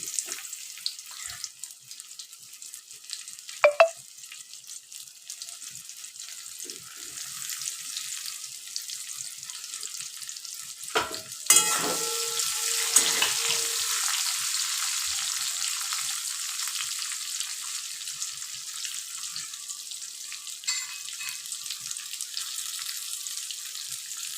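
Okra coated in besan frying in hot oil, a long steady hiss of sizzling that swells and stays bright after a sudden burst midway, with a few small clicks and no talk.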